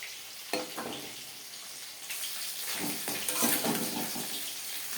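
Spices, mostly coriander with some cumin, frying in a pan on a low flame while being stirred, a gentle crackling sizzle with scraping stir strokes growing busier toward the end, close by.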